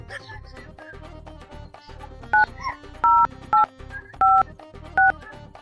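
Telephone keypad dialing tones from a phone call being placed, a series of about five short clear beeps spaced irregularly over a low background hum and murmur of voices.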